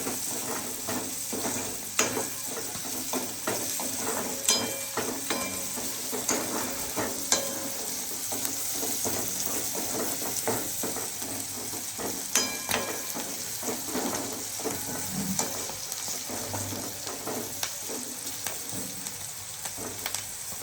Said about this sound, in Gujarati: અને વટાણા સોફ્ટ થાય ત્યાં સુધી આપણે એને સાંતળશું.